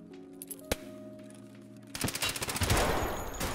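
A Kedr submachine gun fires in Escape from Tarkov Arena: one sharp shot early, then a rapid, rattling automatic burst near the end, fairly close over quiet game ambience.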